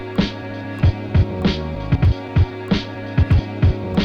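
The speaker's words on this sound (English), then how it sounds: "here's where we're going to put the kick drum" Boom bap kick drum pattern programmed on a Roland SP-404MKII sampler, several punchy low thumps in a syncopated groove over a sustained sampled loop, loud and close with no talking.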